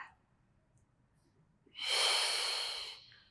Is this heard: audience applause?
no